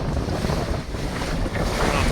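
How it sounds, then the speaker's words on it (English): Wind gusts and water splashing against a shanty boat heading into the wind, a steady loud rush of wind noise over broadband wave slap, close and continuous throughout. "I'm glad you can see the splashing because we're going into the wind here for a little while, about a mile."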